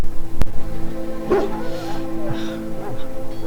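A Mabari war hound in Dragon Age: Origins gives a loud, close bark followed by softer whimpering yips, with game dialogue and background ambience running underneath.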